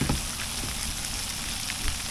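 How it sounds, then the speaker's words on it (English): Hail falls steadily on a tarp strung over a hammock at a snowy campsite, a dense, even hiss of tiny patters and taps with no talking. "But yeah, it's hailing. It's not snowing"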